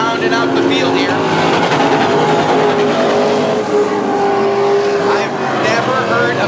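A loud, steady race car engine roar at North Central Speedway heat races, with some rising revs, continuous throughout, with a voice talking over it.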